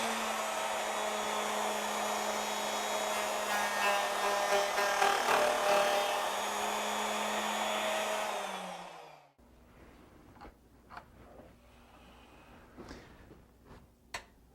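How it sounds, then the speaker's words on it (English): A router cuts into rotating wood stock, a loud, steady high whine with a rough cutting edge for about nine seconds, then winding down and stopping, followed by faint clicks and handling noises. "I have the router off to the back side, so when we turn it on, we'll bring it slightly over center as I'm rotating the stock"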